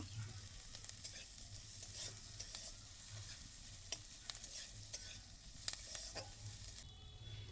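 Ginger paste and green chilli stirred in a frying pan, a soft continuous sizzle under repeated light scrapes and taps of the spatula, fairly quiet and close.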